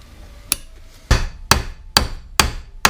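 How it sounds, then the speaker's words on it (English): Sharp metallic hammer taps on a U-joint cap held in a vise during a Dana 44 axle rebuild, six strikes at an uneven, roughly half-second rhythm, close and distinct with brief ringing decay. "tapping this in with the hammer in a vise"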